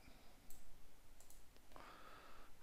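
A computer mouse double-clicks while choosing colours for text in Adobe Premiere, giving a few faint, crisp clicks spread out over quiet room tone.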